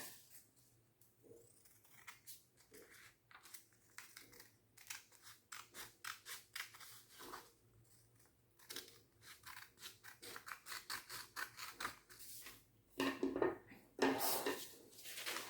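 Scissors trimming excess paper from a folded origami paper boat, a long run of crisp close snips in quick irregular rhythm that grows denser and louder toward the end, with no talk over it.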